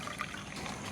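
Water poured onto sugar in a pan to make syrup, a steady trickling pour lasting the whole second, close and fairly quiet with no voices.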